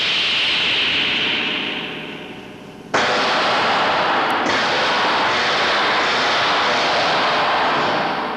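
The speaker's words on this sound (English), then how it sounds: "Captain Thompson, a helicopter." A helicopter roars loudly and steadily overhead, a broad engine and rotor wash that fades slightly, then cuts in abruptly louder and stays close and constant to the end, with no talk.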